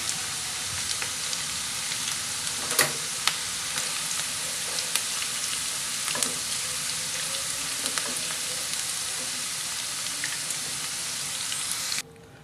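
Sliced onion and okra fry in hot oil with a steady, close crackling sizzle, dotted with occasional sharper pops and spatters, then the sound cuts off abruptly at the end.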